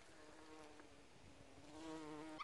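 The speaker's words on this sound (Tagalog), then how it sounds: "Parang may narinig akong bubuyog ah." A faint bee buzz drones nearby, a thin wavering hum that rises slightly in pitch toward the end, outdoors on a farm.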